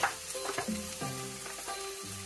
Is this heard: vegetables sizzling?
yes